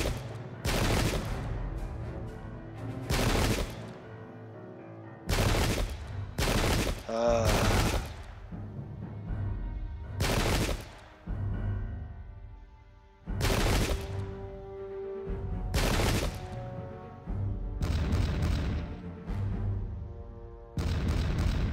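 Cannons firing in a pike-and-shot wargame set at Rocroi: a long series of heavy booming blasts spaced a second or two apart, some in quick pairs, over a steady droning game soundtrack.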